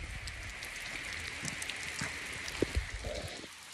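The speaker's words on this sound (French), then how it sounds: "On a de la pluie, on va pas s'en plaindre." Rain falls steadily in front of a farm workshop, a soft continuous patter of drops on hard ground with a couple of louder nearby drips, and no talking.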